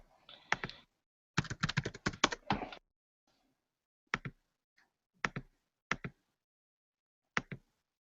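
Fingers type on a computer keyboard in short bursts of rapid clicking, then a few isolated single keystrokes with pauses between, close and clear with no talking.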